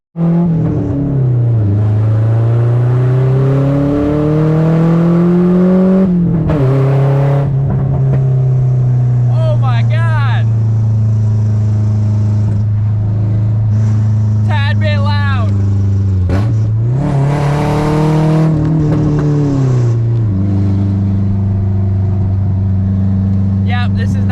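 A loud Nissan 240SX engine with a raw open-header exhaust drones steadily while driving, rising and falling with shifts and revs, with occasional squealing chirps.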